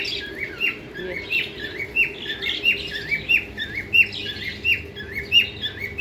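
A small pet bird chirps repeatedly while eating coriander, quick, bright, rising notes, close and lively, with a faint steady hum underneath.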